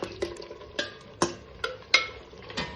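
A spoon scrapes and knocks through mutton in thick masala in a clay pot at a steady rhythm, about seven strokes over a faint sizzle on a low flame.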